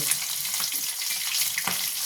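Black cumin seeds and green chillies sizzle and crackle in hot oil in a kadai, a bright steady hiss with a few sharper pops.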